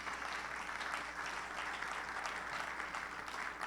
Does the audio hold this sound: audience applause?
yes